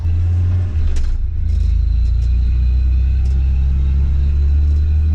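A full-sized Ford F-150 pickup engine catches and settles into a loud, steady low rumbling idle close by, with a few faint clicks over it and no talking.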